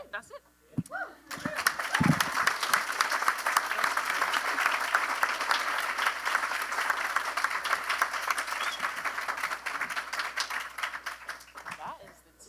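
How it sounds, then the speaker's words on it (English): A conference audience applauds a panel on affordable medicines, broad sustained clapping that swells after a brief quiet start, stays dense and steady, then fades near the end, with a few voices mixed in. "Can we get another round of applause for this panel?"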